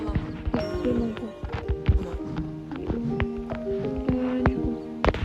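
Horse hooves clip-clopping and whinnying in a horse-riding video game, with repeated hoof thuds and tonal neighs over a faint hum, fairly close and continuous.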